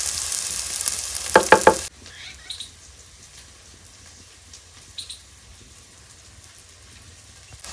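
Tomato and spices hit hot oil for a masala khichdi base, a loud burst of sizzling with a few sharp crackles that quickly settles into a faint, quiet frying hiss, outdoors under a neem tree.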